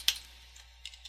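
Keys on a computer keyboard being typed in a MySQL console: one sharp keystroke near the start, then a few faint, scattered clicks after a quiet pause, close and alone.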